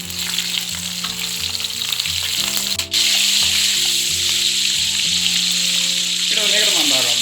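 Garlic, green chilies and red chilies frying in hot oil, a loud continuous sizzle with stirring scrapes, partly under a steady musical background.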